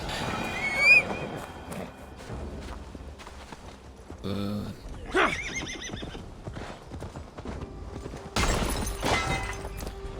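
A horse whinnies and neighs amid clattering hoofbeats and game sound effects in Assassin's Creed Valhalla, with a crash and bursts of noise later on.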